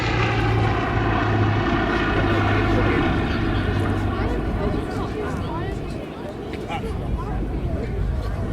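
A Bristol Blenheim light bomber flies past at an airshow, its piston engines and propellers droning loud and continuous, with a commentator talking over it.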